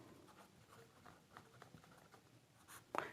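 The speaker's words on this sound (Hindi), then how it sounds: "आगे लिखेंगे" Pen writing by hand during a chemistry lesson on electrolysis, faint scratchy strokes in short irregular bursts close by, ending in a slightly louder scrape.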